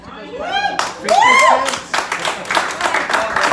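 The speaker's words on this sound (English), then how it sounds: "I don't mind you clapping on that." An audience claps at a political speech, bursts of hand claps rising and fading in waves, mixed with loud voices and cheering from the crowd.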